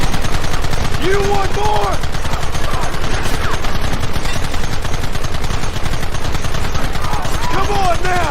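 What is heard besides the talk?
gunfire in Red Dead Redemption video game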